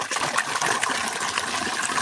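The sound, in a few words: mountain water flowing from a pipe at an old well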